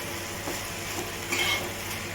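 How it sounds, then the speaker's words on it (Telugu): Curry with tamarind pulp being stirred in a pan, a soft scraping swirl with faint sizzling, low and steady with a slightly louder pass midway, no talking. "బాగా కూరంతా కలపెట్టుకోవాలి"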